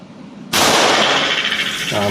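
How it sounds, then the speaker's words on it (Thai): A single loud, close shot from a Smith & Wesson M10 .38 revolver with a 4-inch barrel, fired one-handed with the left hand, bursting out sharply and leaving a long, harsh ringing tail. "ต่อไปยิงด้วยมือซ้ายครับ ก็ลำบากนิดนึงต้องเล็ง"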